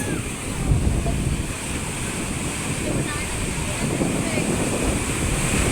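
Heavy surf of large waves rolls and churns steadily onto the shore, with constant wind rumbling over the microphone and a roar of water throughout.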